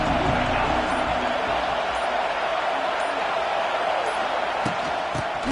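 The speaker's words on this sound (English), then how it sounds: "This crowd ready to make its presence known." A packed football stadium crowd at USC vs Texas A&M gives off a steady, loud roar of cheering, a constant wash of noise with no breaks.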